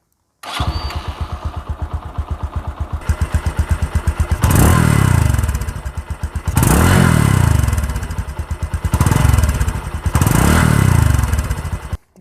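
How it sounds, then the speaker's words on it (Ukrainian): A Bajaj Boxer 150 motorcycle engine putters at a fast, even idle, then revs up in several loud surges that rise and fall back, close by. "Звучить мотоцикл тихо, на голову не давить, але досить приємно, як для своєї кубатури."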